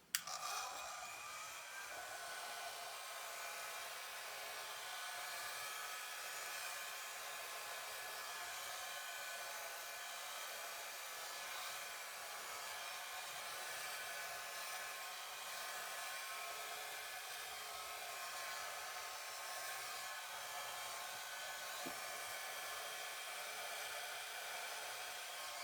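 A hair dryer blows acrylic paint across a canvas for an abstract pour painting, its steady, loud whooshing drone running close and unbroken, with a slight pitch wobble as the airflow shifts.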